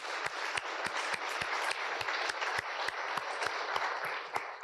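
Audience applause at a community address, sparse individual claps ringing out distinctly over a soft, steady bed of clapping from a moderately distant crowd, no voices.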